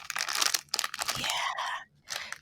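Close crinkling and crunching of Chips Ahoy mini cookie packs being handled, in several bursts with brief pauses, crisp and near.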